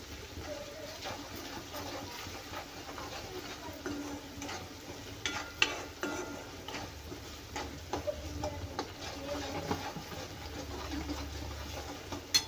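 Spices roast in hot oil for an egg curry, giving a soft continuous sizzle broken by frequent small ticks and scrapes of stirring throughout.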